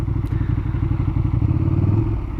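A Ducati motorcycle cruising by on a street in Uppsala, its engine giving a loud, close, pulsing low rumble with a steady, throbbing beat and faint rattle, no voices over it.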